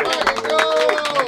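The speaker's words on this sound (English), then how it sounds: "Clap it up for Boy Wanda." A small group in a music studio clapping for Boy Wanda, brisk uneven hand claps close by, mixed with chatter and voices over the short burst.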